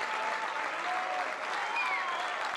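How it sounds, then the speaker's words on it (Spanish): Warm, steady applause from a crowd greeting the Spanish Olympic delegation, a dense even wash of clapping with a faint voice or whistle drifting over it. "Este caluroso aplauso intentaba levantar el ánimo de una delegación española completamente destrozada"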